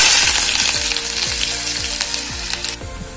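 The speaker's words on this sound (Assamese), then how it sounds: "এয়া কেৰাহীত তেল গৰম হ'ল, এতিয়া ইয়াত মই কাটি লোৱা পিঁয়াজখিনি দিম।" Chopped onions hit hot oil in a wok, giving a loud, steady sizzle with crackling and occasional stirring scrapes throughout. No one speaks.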